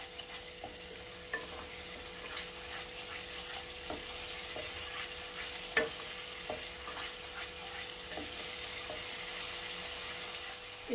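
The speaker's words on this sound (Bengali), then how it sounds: "এই মশলাটাকে আমি কষিয়ে নেব" Spice masala for jackfruit curry sautéing in a wok, a soft, fairly faint sizzle with scattered light scrapes and taps of stirring at an unhurried pace.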